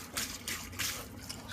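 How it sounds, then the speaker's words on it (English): Water escapes from a leaking shut-off valve buried under a concrete slab floor, a faint, steady hiss of spraying and trickling water that swells in three soft rushing pulses. "they put a water valve under the floor. And that's what's actually leaking"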